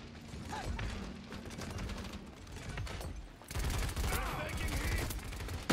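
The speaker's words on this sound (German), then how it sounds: "Das Geballer geht auf jeden Fall munter weiter." Gunfire in the video game Paladins: rapid mechanical bursts of shooting and clattering weapon noise run continuously and fairly loud, with a brief lull before a heavier, denser barrage.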